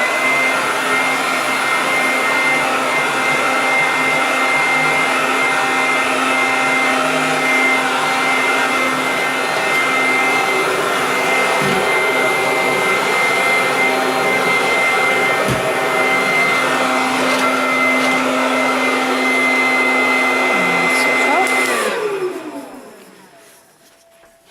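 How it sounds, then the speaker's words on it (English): A free-standing cordless vacuum cleaner runs with a steady, loud, close whine and whoosh for over twenty seconds, then powers down and fades near the end; no talking. "The main hoover then"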